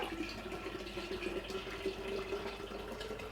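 Filtered water is poured into a container in a kitchen, a steady close rushing stream that holds constant throughout with no voices.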